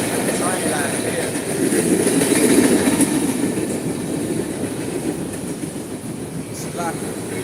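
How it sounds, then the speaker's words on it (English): A train rolls past along a rail line in Stone Mountain, Georgia, a continuous rumbling clatter of cars with faint wheel squeals, close and loud, with people talking over it. "Let the train go by."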